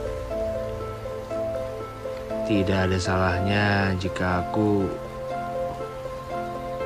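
Steady rain pours down at night in a continuous wash of noise, running throughout while a voice speaks over it in the middle.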